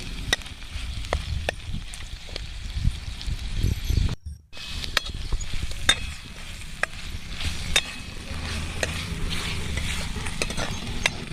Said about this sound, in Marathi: चांगलं 1-2 मिनिट परतून घ्यायचं.